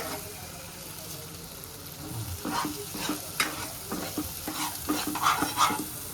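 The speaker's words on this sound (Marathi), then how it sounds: "आता हे मसाले पूर्ण तेल सुटेपर्यंत आपण ह्यांना आता शिजून घेऊ" Spice masala paste of turmeric, garam masala and coriander powder frying in oil for veg kolhapuri, close sizzling with repeated scraping stirs that grow busier partway through.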